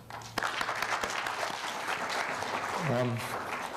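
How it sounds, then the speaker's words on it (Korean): An audience at an invited lecture on Taiwan's nuclear power referendum gives a steady, sustained round of applause to welcome the professor, with a voice speaking over the clapping near the end. "그럼 이충관 교수님 따뜻한 박수로 맞아주시죠."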